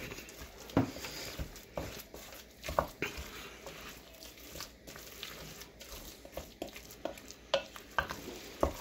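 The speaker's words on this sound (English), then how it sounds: "So we're just going to mix this all together and get it really mixed in." Meatloaf ingredients being stirred and mixed by hand in a bowl, a steady run of soft wet squelching and patting sounds close up, with no talking.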